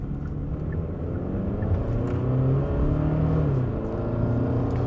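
Steady engine rumble and whir from a Genesis G70 car accelerating, a continuous loud drone that rises and shifts in pitch over a few seconds, heard from inside with no talking.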